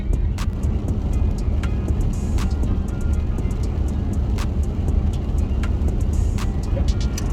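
Steady road and engine drone inside a used luxury car cruising at 60 mph, a constant broadband hum with occasional faint clicks and no talking.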